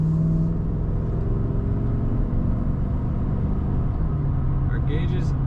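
A 2013 Chevrolet Silverado 1500 pickup truck driving on the road, with a steady low engine rumble and road noise running throughout and no clear change in pace.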